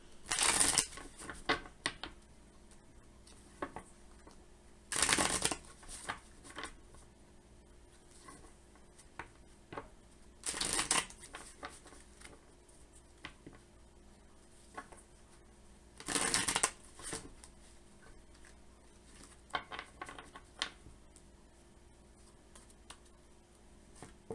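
Tarot cards being shuffled, several bursts of riffling and fluttering cards about every five seconds, with softer tapping and handling of the deck in between, close and fairly quiet with no talking.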